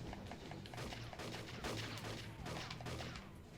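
Rapid gunfire in the video game Super 64 332-in-1, a dense burst of shots from the game's audio, steady and fairly faint, with no talking.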